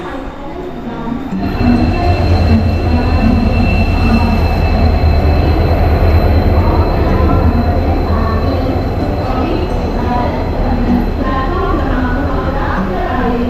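The Tutari Express train rumbles loudly and steadily close by at night, with a high metallic squeal running through and the rolling clatter of wheels on rails.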